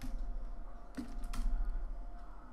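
A few close, crisp key clicks on a computer keyboard while code is typed, brief taps over a steady low hum with no speech.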